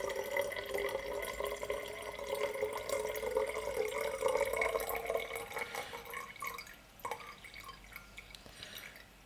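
Tap water pours into a bottle in a steady splashing stream whose pitch rises as it fills, then thins to a few drips and trickles near the end.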